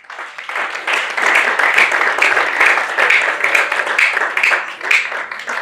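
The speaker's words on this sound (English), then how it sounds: "Another round of applause for Dr. Adegbenro Ajani." Audience applause closing a motivational talk at a success seminar, a dense, steady wash of many hands clapping that holds loud and continuous throughout.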